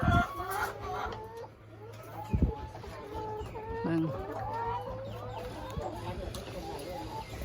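Laying hens in a backyard coop clucking and cackling continuously, several birds close by with sharp occasional calls, while someone says a word and other low voices murmur.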